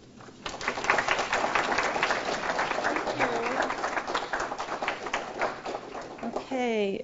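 An audience claps to welcome a speaker to a creative nonfiction reading, a steady wash of applause lasting several seconds with a voice speaking over the end.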